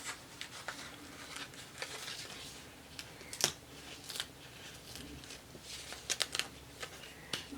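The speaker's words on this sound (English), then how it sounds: "I just can simply use my X-Acto knife" An X-Acto knife cutting card paper, producing short crisp scrapes and clicks spaced irregularly at close range, with small bursts of sharper slicing amid quiet rustling.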